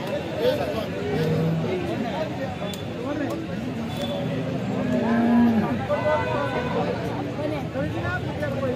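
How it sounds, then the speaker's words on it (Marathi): A cow lows at a busy cattle market, a drawn-out moo rising over a steady babble of crowd chatter and voices nearby. "आपण ही गाई पाहू शकता."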